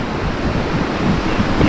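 A loud, steady roar of crashing ocean surf with rushing wind noise buffeting the microphone, no voices present.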